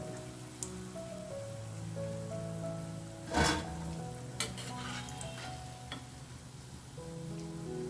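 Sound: food frying in a pan

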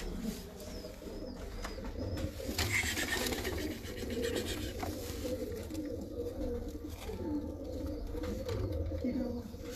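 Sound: pigeons cooing in a loft

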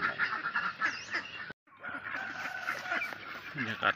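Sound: ducks quacking on a duck farm

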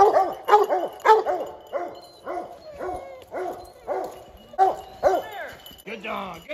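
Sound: hunting hounds barking at treed mountain lion

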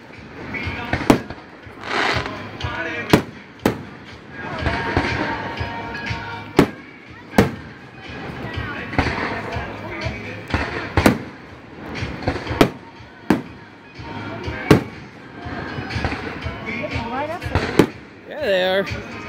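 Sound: fireworks and firecrackers exploding on the 3rd of July

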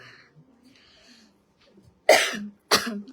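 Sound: coughing

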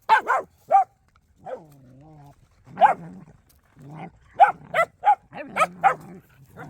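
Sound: dogs barking

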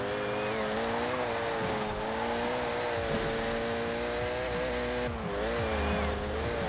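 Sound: car driving in video game Forza Horizon 4

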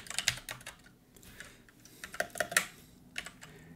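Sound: typing code on a computer keyboard

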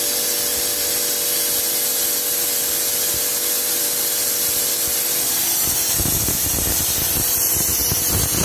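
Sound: flushing an air conditioner condenser coil with spray

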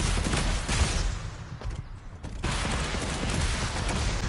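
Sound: gunfire in a video game

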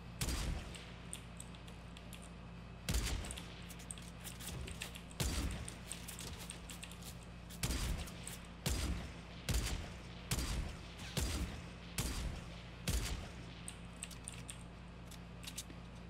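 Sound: automatic sniper rifle firing in Fortnite video game

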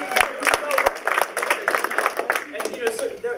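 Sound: audience applause

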